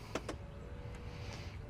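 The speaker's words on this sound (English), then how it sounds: "you can just simply hit this one button and it will close both at the same time" A 2026 Lincoln Navigator Black Label power liftgate closes with a faint, quiet electric motor whir after a couple of short clicks.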